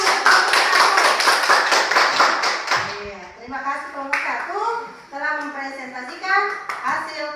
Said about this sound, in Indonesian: Iya, tepuk tangan.